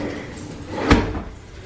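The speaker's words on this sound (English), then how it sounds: "But you can slam the drawer." A soft-close kitchen drawer is slammed shut, giving one muffled, fairly loud thud midway through a quiet room, with no voices.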